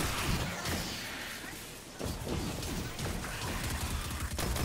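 Explosions and weapon fire crash and boom in rapid succession in the video game Destiny, a dense, loud barrage of blasts and impacts with little letup.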